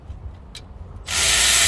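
A ratchet works on the alternator bolts of a 2011-2021 Jeep Grand Cherokee 3.6L, with a few faint clicks first and then a sudden loud, sustained burst of mechanical whirring that carries to the end.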